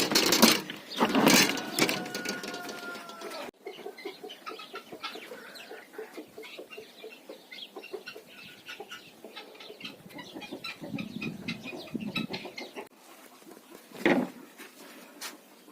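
Small bantam hens cluck repeatedly up close, a busy flock with overlapping clucks and one louder squawk near the end; a brief rooster-like call sounds at the start.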